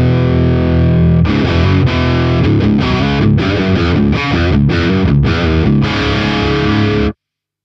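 An electric guitar plays through a Mooer Preamp Live pedal with the gain boost engaged, giving a loud, distorted tone. Chords and riffs run steadily for about seven seconds, then cut off abruptly.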